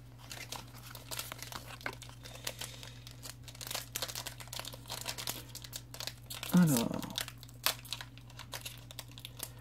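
A Pokémon trading card booster pack from the XY series is torn open indoors, giving a quiet, close crinkling and ripping of foil wrapper with one sharper tear partway through, over a steady low hum and faint background chatter.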